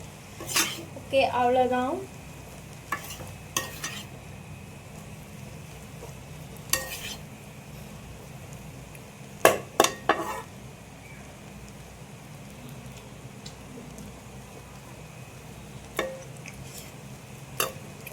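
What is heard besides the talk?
stirring chicken noodles with gravy in a pan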